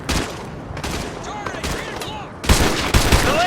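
Gunfire in the video game Call of Duty Modern Warfare 2 Remastered comes as scattered shots and distant bursts under radio chatter and shouted voices, with a louder cluster of close shots near the end.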